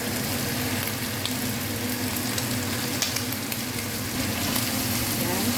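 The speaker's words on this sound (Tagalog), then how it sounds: "Ayan, lalagay natin din yung scallop. Sunod natin yung green peas." Garlic, scallop and green peas frying for fried rice in a rice cooker, giving a dense, unbroken crackling sizzle that stays loud and close throughout, without speech.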